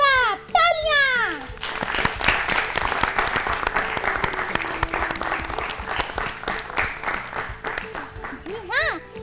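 An audience of children claps in a dense, sustained burst of applause after a correct answer on a school quiz show, with kids' voices chattering at the start and end.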